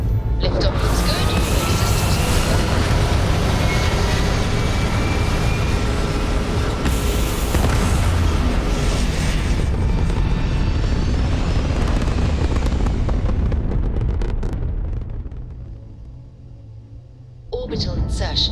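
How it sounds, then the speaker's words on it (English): Spaceship liftoff in the video game Starfield: a loud, sustained broadband roar with deep rumble that holds steady for about fourteen seconds, then drops away to near quiet before a brief burst returns at the end. "Liftoff looks good."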